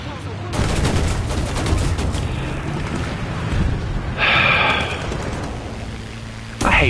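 Rapid aircraft strafing gunfire in War Thunder, a dense continuous rattle of shots with explosive booms throughout, loud and close, with a brief burst of a brighter mechanical tone partway through.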